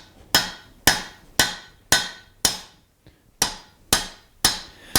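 Hot steel struck repeatedly on a blacksmith's hardy tool while forging a leaf, eight sharp ringing hammer blows in a steady rhythm with one short pause, close and loud with no talk.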